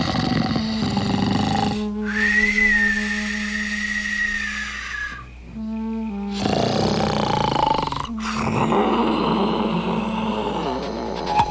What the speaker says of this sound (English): Soon, he began to snore.